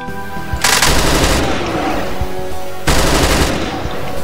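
Automatic gunfire in the DOOM Hideous Destructor video game, two loud sustained bursts of rapid shots with a continuous roar of game noise between them.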